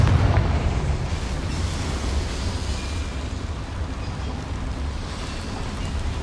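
A Confringo fire spell in the video game Hogwarts Legacy erupts as a deep, roaring blast up close, then settles into a sustained rumbling whoosh that slowly fades.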